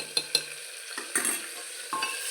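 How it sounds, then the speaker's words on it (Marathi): Onion sautéing in a pan with ginger garlic paste added, for a quick bean rice dish: a steady sizzle with a couple of sharp utensil scrapes and stirring clatters up close, no talking. "कांदा आपल्याला असा थोडासा परतून घ्यायचा आहे त्यात आपल्याला लगेच आलं लसूण पेस्ट टाकायची आहे"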